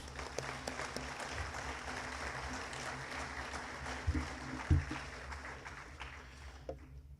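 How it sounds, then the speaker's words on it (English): Audience applause at a football assembly, a steady wash of clapping from a crowd held at moderate level for several seconds, with a couple of louder thumps near the end before it thins out. "If you would give those people a round of applause."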